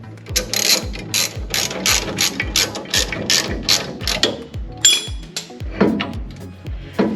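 A ratchet wrench cranks a bolt on a Fox Body Mustang anti-moan brace in rapid, steady clicking bursts, close and loud, with a short metallic clatter near the end.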